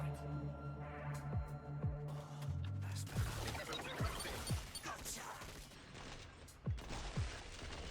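Tommy gun firing in Killing Floor 2, a series of sharp reports with a rhythmic clatter of shots and mechanical impacts, moderately quiet with game music and background sound mixed in.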